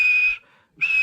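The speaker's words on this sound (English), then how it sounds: "And he blew his whistle." A steam engine whistle for a wooden toy train sounds as two clear, shrill blasts of one steady pitch, loud and close, separated by a short silent gap.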